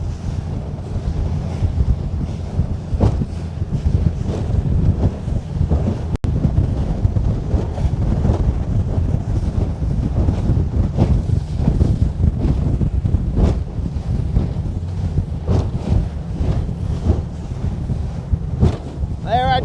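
Gusty wind buffets the microphone on a boat out on Lake Guntersville. A constant low rumble of swells and water runs underneath, with faint voices in the background.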